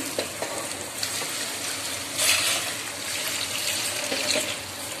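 Water pours into a hot pan of sautéed tomatoes with a steady hiss and sizzle, swelling briefly midway, close and fairly quiet.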